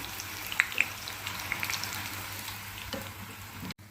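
A wheat flour snack deep frying in hot oil, with a steady fine crackling sizzle and a few sharper pops early on, moderately quiet and continuous until it cuts off abruptly.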